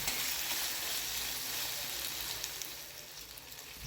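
Potato pieces sauté in a garlic and cumin tempering, giving a soft, steady sizzling hiss with faint crackle, fairly quiet and with no voices.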